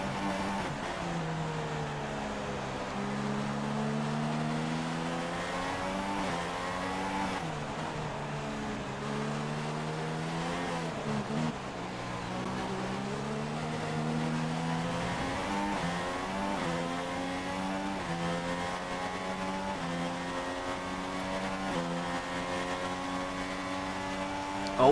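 Formula 1 race cars in F1 2016 video game, a high-pitched engine whine rising and falling through gear changes over a long stretch, with another car's engine blending in as one slips past, no talk.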